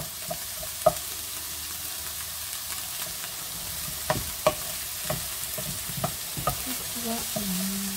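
Pieces of rabbit browning in a pan for rabbit with mustard, a steady low sizzle with occasional sharp clicks and scrapes of stirring, quiet and close, no voices.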